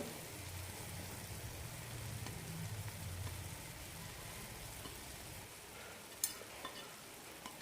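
Cooked rice being stirred and mixed into roasted puliodhara tamarind masala in a pan, a soft continuous scraping and light sizzle with a couple of sharper clicks near the end, no talking.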